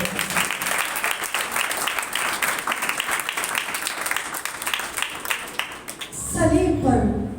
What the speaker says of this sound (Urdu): چاہتی ہوں ان کے لیے زوردار تالیاں۔